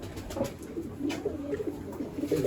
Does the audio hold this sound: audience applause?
no